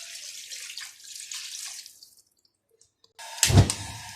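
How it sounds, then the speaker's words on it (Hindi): Water pours into a cooking pot of spiced ingredients, first a steady hissing stream, then a brief pause before a louder, splashing gush near the end. "अब डाल देंगे पानी,"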